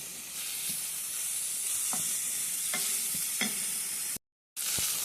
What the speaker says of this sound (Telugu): ఆనియన్స్ ఇట్లా మంచిగా బ్రౌన్ కలర్ రావాలండి